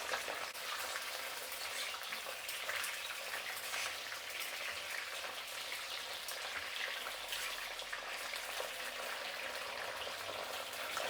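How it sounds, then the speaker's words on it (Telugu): Brinjals frying in hot oil in a pan for stuffed eggplant curry give a steady, dense sizzle that runs unbroken and fairly close throughout, with no talking. "కాబట్టి నేను ముందుగానే వంకాయలు వేయిస్తున్నాను."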